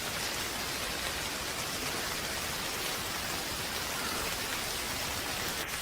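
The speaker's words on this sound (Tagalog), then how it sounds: "Ang lakas ng ulan" Heavy rain falls in a dense, steady hiss of drops hitting surfaces, even and unbroken for several seconds with no voices.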